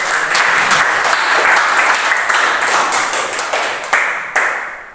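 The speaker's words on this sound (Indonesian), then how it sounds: "Kasih tepuk tangan yang meriah untuk" Loud, steady applause from a classroom of students during a teaching practice lesson, dense clapping filling the whole stretch and thinning slightly toward the end with a few louder bursts.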